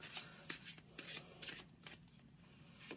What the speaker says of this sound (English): I need one more shuffle.